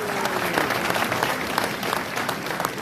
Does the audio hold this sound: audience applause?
yes